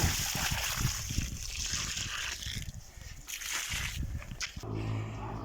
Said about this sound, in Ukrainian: помаленьку поливаємо вокруг теплою водою